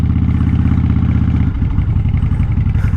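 Motorcycle engine pulling away at the start of a ride, a loud, close, throbbing low rumble that shifts in pitch partway through as the bike accelerates, with wind noise around it.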